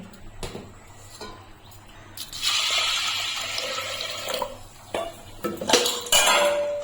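Washed dal goes into a pressure cooker with water and a pinch of salt, with clattering pot and utensil knocks and the splash and pour of water, a few sharp clanks standing out.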